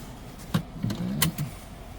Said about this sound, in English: let me put on my seatbelt